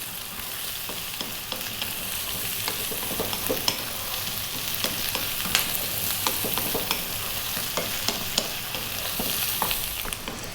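Potatoes frying and being stirred in a pan for a dry aloo potato curry: a steady sizzle with frequent scraping stirs and small clicks of the utensil against the pan, close and continuous, with no talking.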